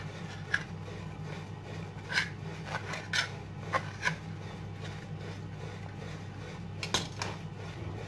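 A knife cuts toasted bread into squares, giving a series of dry, crisp rasping crunches at irregular intervals over a low steady background hum, close and fairly quiet.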